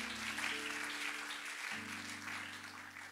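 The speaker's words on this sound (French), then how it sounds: "Acclame pour le Seigneur." A church congregation applauds steadily throughout a worship service, dense clapping held under a sustained organ or keyboard chord that shifts partway through.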